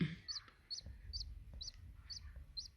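Day-old ducklings eat moistened concentrated feed while bright, high peeping chirps repeat about every half second over soft low pecking and rustling, close but faint.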